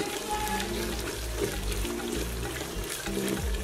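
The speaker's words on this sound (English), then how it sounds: "i'm putting in my tomato puree" Tomato puree poured into a pot of Ghanaian jollof rice base, a dense, steady wash of liquid and sizzling noise that stays loud and unbroken throughout, with no voice.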